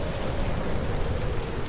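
Heavy rain in a storm roars in a loud, continuous wash of noise with a deep low rumble, steady throughout and without speech.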